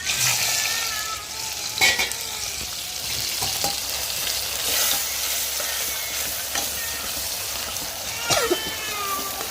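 Masala hitting hot oil crackles and sizzles close by, a busy frying hiss with occasional stirring clatter and brief higher squeaky tones, no speech.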